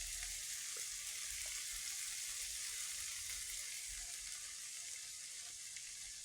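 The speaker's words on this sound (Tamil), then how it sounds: "லைட்டாக தண்ணி தெளிச்சிடலாம்." A bitter gourd stir-fry sizzles steadily in a hot pan after a light sprinkle of water, giving a constant hissing fry with a few faint clicks and no talking.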